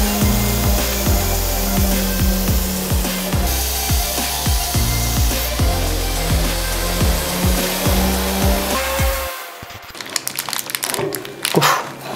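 A homemade turbo slicer motor whirs loudly as it cuts through fuet sausage, its pitch rising and falling in a rhythmic pattern, then it stops and a few clattering handling noises follow.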